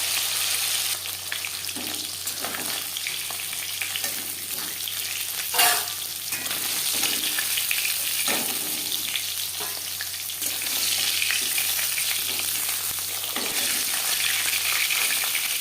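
Pieces of rui fish fry in hot oil in a pan, a continuous crackling sizzle broken by occasional scrapes and clinks as the pieces are stirred and turned.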